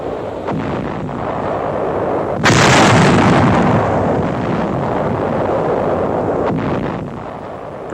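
WWII artillery counter-battery fire from coastal batteries, one heavy blast followed by a long rolling rumble over a continuous low background roar, from archival wartime footage.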